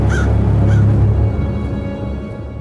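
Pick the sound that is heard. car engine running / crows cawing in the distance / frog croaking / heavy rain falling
crows cawing in the distance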